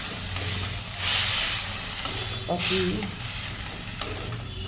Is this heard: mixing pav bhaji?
yes